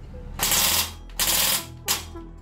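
Krytac FN Herstal P90 airsoft AEG firing full-auto in three short bursts, each a rapid mechanical rattle of gearbox cycling lasting about half a second, separated by brief pauses.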